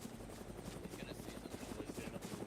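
A helicopter in a military combat game thuds with steady rapid rotor chop, a continuous droning beat that holds throughout at moderate distance, with a voice faintly underneath.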